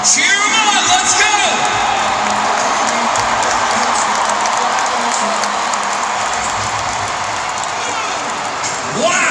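A loud crowd at an army truck pull whoops, shouts and cheers continuously and close by, with a dense roar of voices and some clapping throughout.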